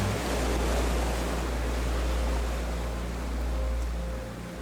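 Ocean waves on a beach, a continuous broad surf roar with deep low rumble that swells gently and eases near the end, heard alone without talking.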